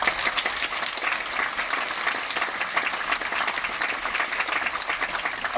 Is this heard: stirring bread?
no